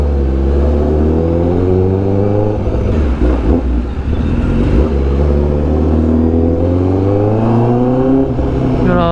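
A Honda CBR1000RR-R Fireblade SP superbike engine revs loud and close, its pitch rising and falling through a couple of throttle sweeps with a dip mid-clip, steady and unbroken with no talk.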